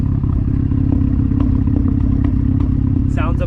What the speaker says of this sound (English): So it has just like a perfect idle tone to it